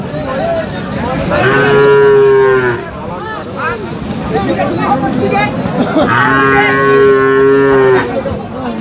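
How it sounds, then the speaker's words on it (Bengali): Two long, loud, close moos from cattle at a rural livestock market in Dinajpur, Bangladesh, each lasting over a second with a pause between, over faint crowd murmur. "এই গরুটা একটা দেখাচ্ছি আপনাদের"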